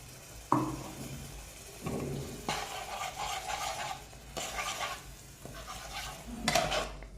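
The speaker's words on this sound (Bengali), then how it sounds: "এর মধ্যে এবার কাজুর মশলার জলটা দিয়ে দিচ্ছি।" Cashew spice water is poured into a hot frying pan and stirred, a sharp splash and hiss followed by repeated bursts of sizzling and scraping spatula strokes, close and fairly loud with no speech.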